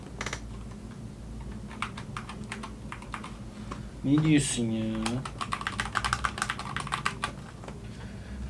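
Fingers typing on a SteelSeries Apex Pro TKL Wireless mechanical keyboard, a close series of crisp clacking keystrokes in bursts, with someone speaking briefly midway.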